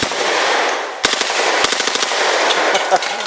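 HK MP5 9mm submachine gun fired on select fire outdoors at targets, loud close bursts of rapid shots with sharp cracks in quick succession over steady background noise.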